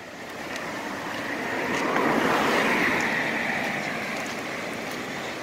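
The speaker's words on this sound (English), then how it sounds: "Look how fast that water's moving." Floodwater in Rutland, Vermont rushes fast through a swollen river toward falls, a broad, continuous roar that swells slightly in the middle and holds steady, with no talking.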